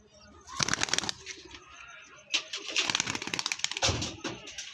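A Kalanka pigeon let go from the hand, its wings beating in two clattering bursts of rapid, close flapping with softer rustling between them.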